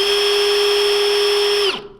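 A Milwaukee cordless drill set to speed 2 whirs at a steady, constant pitch for nearly two seconds, then winds down quickly as it stops.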